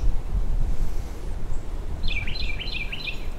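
Gusty wind blows outdoors in a low, rumbling roar against the microphone, with a bird chirping in a quick run of calls partway through.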